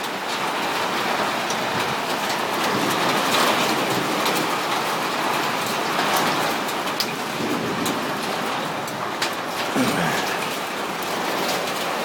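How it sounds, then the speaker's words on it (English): Rain mixed with small hail, about 3/8 inch, falls in a dense, steady roar, with scattered sharper pellet impacts standing out across the downpour. "That's the size of that hail right there."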